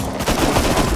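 Rapid MP5 submachine-gun fire in the survival video game Rust, a dense, continuous burst of loud shots filling the whole second with no talk over it.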